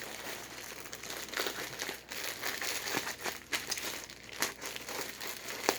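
A plastic bag holding Godzilla 1985 items crinkles and rustles close up in irregular bursts of crackling, with no talking.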